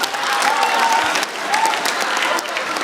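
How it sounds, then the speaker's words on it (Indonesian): A stand-up comedy show audience claps enthusiastically, dense sustained applause lasting a few seconds with a brief lull and some cheering. "Tepuk tangan buat Boah"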